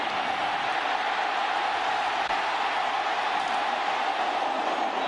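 Football stadium crowd at a Buffalo Bills at Indianapolis Colts game as Peyton Manning takes a hit, a steady, distant roar of many voices with no clear peaks, heard alone.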